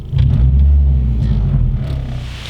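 A car engine idling with polyurethane engine and transmission mounts fitted, a deep loud rumble close by with the cabin and door vibrating, steady after it starts, alone without talk.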